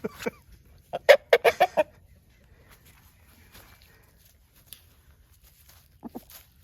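Chickens cluck in a quick burst of several calls, then fall mostly quiet before a couple more short clucks near the end.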